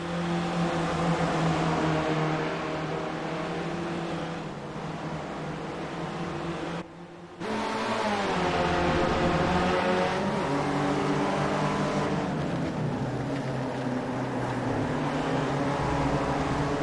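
A tight pack of SRF race cars in a sim racing game at Sebring screams past, layered engine whines rising and falling through gear changes, with a brief cutout midway before the roar returns.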